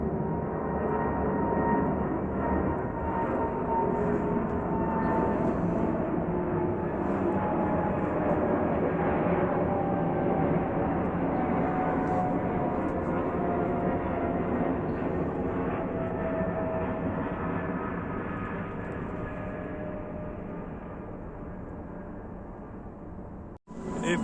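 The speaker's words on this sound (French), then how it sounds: "Et voici le énième avion qui nous survole depuis la piste 25, virage gauche, court." A loud jet airplane roars steadily overhead after takeoff from runway 25 in Brussels, its engine drone holding for a long stretch before slowly fading, ending with a sharp click.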